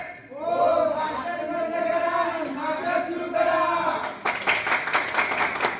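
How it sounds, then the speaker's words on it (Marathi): An audience at a Malvani comedy stage play claps in scattered bursts that become a sharper ripple of clapping toward the end, heard under a performer's loud, animated speech. "अरे पण टाळी किती वाजवतात."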